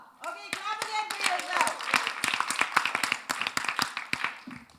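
Conference attendees clap, individual hand claps close and distinct at an uneven rhythm, with voices and cheering mixed in at the start.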